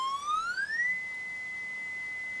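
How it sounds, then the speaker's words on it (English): A pure sine tone from an audio generator feeding a UA741 op-amp preamplifier sweeps upward, then settles into a steady, clean 2000 hertz whistle that holds alone. "the audio generator sine wave to 2. So that means that we now hear 2000 hertz"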